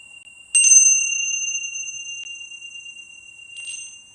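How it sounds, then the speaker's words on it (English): Small tingsha bells struck together, a bright metallic chime that rings out and slowly decays, with a second softer strike about three seconds later, close and clear in a quiet room. "And I'll send us off with these beautiful tincture bells."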